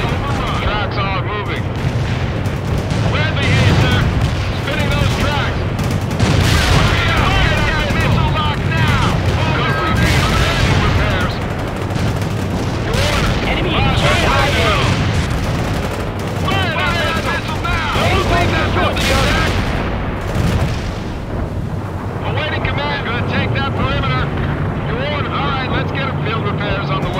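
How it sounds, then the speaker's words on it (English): Battle in the video game World in Conflict, with a dense, loud, continuous roar of gunfire and explosions, mixed with engine and vehicle rumble, and radio-style voices talking over the combat throughout. "They're firing out. At us!"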